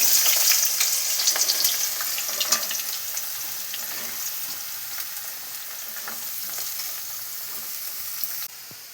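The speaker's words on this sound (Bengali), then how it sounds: "গাজরটা এখন ভেজে নেব তেলের মধ্যে।" Carrots fry in hot oil with ghee in a pan, a loud, close, continuous sizzle with light stirring that carries on evenly for several seconds before cutting off near the end.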